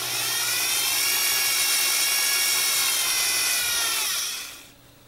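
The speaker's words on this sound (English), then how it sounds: "So let me finish drilling all these." A small high-pitched drill bores holes in a lizard sculpture with a steady whine held for about four seconds, close and loud, before winding down abruptly.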